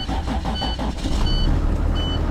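A propane-fueled bus engine on a thermal test rig starts up and roars, settling into a loud, steady idle with a faint intermittent beeping tone over it.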